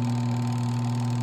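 A spin dryer motor runs with its lid closed, giving a steady, loud, continuous hum with a strong tonal drone and no change over the short stretch.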